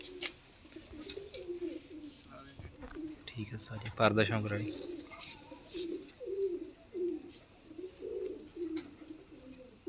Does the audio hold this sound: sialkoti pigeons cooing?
yes